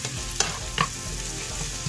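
Onions sautéing in a pan for homemade cabbage rolls give a steady close sizzle, broken by a couple of sharp stirring scrapes.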